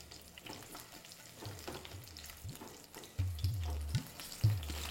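Dry red chilies, sliced ginger and green chilies frying in hot oil, a soft crackling sizzle at first, then louder scraping stirs and thumps of the spoon against the pan toward the end, close, with no speech.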